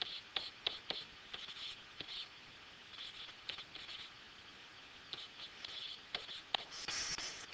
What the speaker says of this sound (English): I'm going to rewrite this over here so I can write it larger.